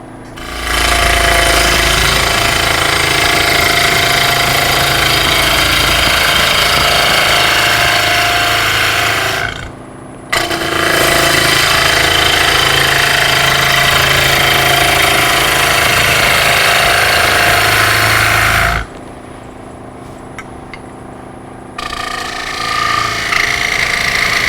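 Gouges and tools cut wood on a chip and dip bowl turning on the lathe, loud and continuous in two long passes with a brief stop between them, then a quieter running stretch near the end.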